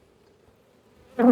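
Honey bees buzzing during a hive inspection, a faint low hum swelling into a louder close buzz in the final moments of a very short stretch.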